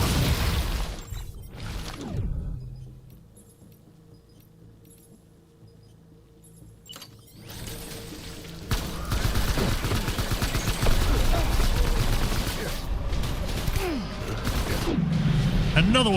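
Gunfire and a grenade blast in the Death Stranding video game, with bursts of rapid shots, a quieter lull, then a loud sustained stretch of explosive rumble and firing, all under excited talk from a player.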